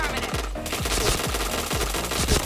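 Rapid bursts of automatic gunfire from the online shooter Point Blank, a loud, continuous rattle with repeated thumping shots and game effects layered throughout.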